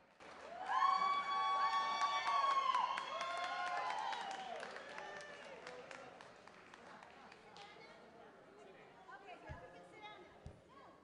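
A reunion crowd at a Class of '75 40th-year gathering applauds the organizing committee, with cheering and whoops mixing into steady clapping that swells early, then gradually thins out, with voices throughout.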